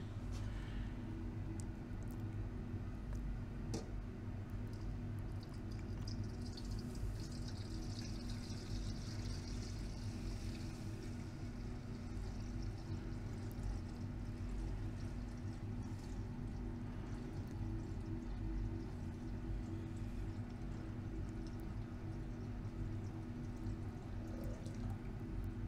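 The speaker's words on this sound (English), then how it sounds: "I'm going to pour in the electrolyte" Electrolyte pours steadily into a six-liter electrolytic silver cell, a continuous liquid stream with faint splashing running for the whole stretch at close range, with no talking.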